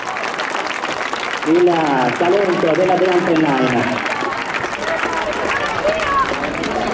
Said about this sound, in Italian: merita comunque l'applauso del pubblico